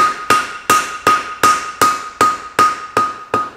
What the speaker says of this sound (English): Now corner my hammer into my scarf. Get my scarf welding.